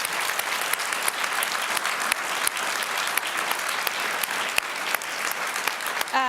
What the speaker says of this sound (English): If you're clapping me out